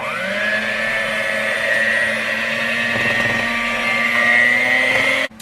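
Electric mixer whirring steadily through cake batter for an old-fashioned cold oven pound cake, a loud continuous motor drone with shifting pitch that runs alone and cuts off abruptly near the end.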